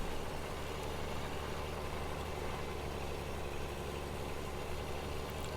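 An articulated tractor engine idling in a Farming Simulator video game, a steady low, dense rumble that holds unchanged and fairly loud throughout with no talking over it.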